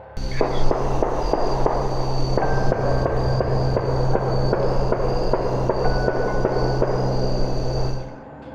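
Gunshots fired in the woods, a rapid run of sharp repeated bangs spaced fairly evenly over several seconds at moderate distance, ending abruptly, with no voices.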